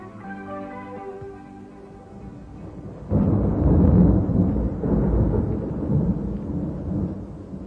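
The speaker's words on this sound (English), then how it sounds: "thunderstorms and violent tornadoes erupt" Thunder rolls through a storm, a deep rumbling surge breaking in partway and then swelling and fading over several seconds, loud and alone after a lower, steadier hum at the start.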